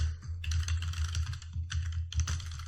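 Rapid bursts of clicky keystrokes on a computer keyboard while text is entered into a web form, in several quick runs with short pauses and a steady low hum beneath.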